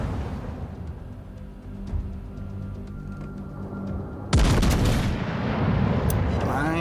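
Warship guns fire in the naval game World of Warships Legends, a sudden loud blast of artillery bursting in after a quieter stretch of low rumble, with a voice talking throughout.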